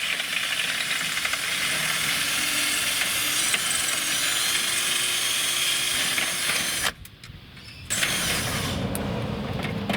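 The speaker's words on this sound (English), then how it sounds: "let's go and get these legs drilled out." A power drill grinds continuously through rivets in metal table legs, loud and close, with a brief pause partway before drilling resumes.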